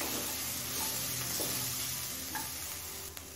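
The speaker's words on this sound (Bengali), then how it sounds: "ক্যাপসিকামটা দিয়ে আরো 2-3 মিনিট ভেজে নিলাম।" Chopped capsicum frying and being stirred in a pan with oats and vegetables, giving a steady close sizzle with occasional scrapes of a spatula, continuous and unbroken by talk.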